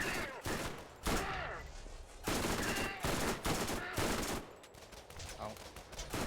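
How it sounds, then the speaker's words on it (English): Guns fire in the video game Borderlands, rapid bursts and volleys of shots arriving in several loud clusters separated by brief lulls, with game sounds between them. "I can fire more bullets than you"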